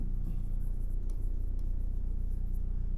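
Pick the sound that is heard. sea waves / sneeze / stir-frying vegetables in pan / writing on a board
writing on a board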